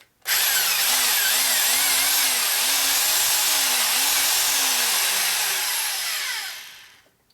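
A power drill runs loud and continuous while cutting on a 1946 Harley-Davidson Knucklehead engine, its motor pitch wavering as it bites into material, then winds down and fades out at the end.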